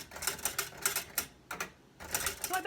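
A typewriter clacking in quick bursts of keystrokes, crisp and close, with a short pause midway before typing resumes, heard alone without voices.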